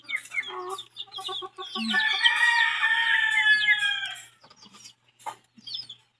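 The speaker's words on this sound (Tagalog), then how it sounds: "dami pong alagang sisiw ni mama" Chickens and many young chicks in a coop give close, lively clucks and chirps, including a long drawn-out rooster-like call in the middle, with brief gaps between bursts.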